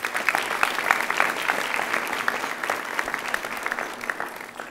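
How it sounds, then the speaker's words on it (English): Audience at a school board meeting applauds an honored high school football player, steady moderate clapping from a room of people, somewhat distant and even throughout. "Let's give him a round of applause."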